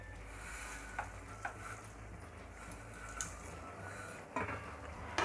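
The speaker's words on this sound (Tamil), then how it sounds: "அந்த சேமியா இது கூட சேர்த்து நம்ம கிளற ஆரம்பிக்கலாங்க." Vermicelli (semiya), about 180 grams, stirred and fried in a pan for upma gives a soft, steady sizzle, broken by occasional sharp scrapes and taps of the spoon against the pan.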